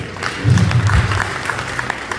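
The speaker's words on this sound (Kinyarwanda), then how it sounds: "Nakama Imana amashyi rwose." A church congregation claps together during a sermon, a dense patter of hands that swells for about a second and then fades into softer scattered clapping.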